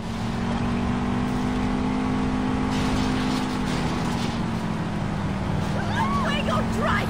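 A car engine drones steadily in a street race in the Saints Row video game, holding a constant hum with brief revving swells, while voices talk over it throughout.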